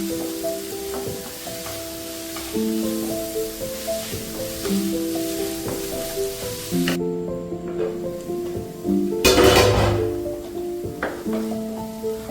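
Onion, ginger and garlic sautéing in a pan for scrambled egg curry give a steady sizzling hiss under tonal background music, with a brief louder burst of frying near the end.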